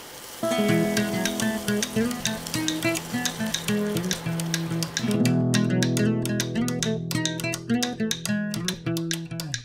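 Hot boiled water goes into a spicy kajli fish curry frying in a pan. A loud, continuous sizzle and bubbling fills the clip, with music underneath.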